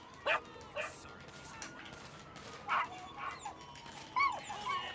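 A dog in Grand Theft Auto V yelps and whimpers in short, sharp bursts with gaps between, mixed with brief barks, moderately close against faint ambient game noise.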